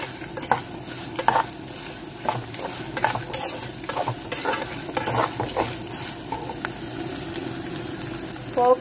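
Green and dried red chillies frying in a tempering of spices in hot oil, with a steady crackling sizzle and frequent stirring scrapes and taps of a spoon against the pan, close and continuous.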